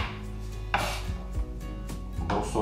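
A kitchen knife chops an eggplant into sticks on a board while buckwheat noodles with vegetables and mushrooms are prepared; several close, sharp chops land at an uneven pace with no talking.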